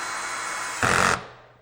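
A power drill briefly drives a pocket screw into a right-angle trim joint, a short, sharp buzzing burst rising over a steady background hum and then stopping.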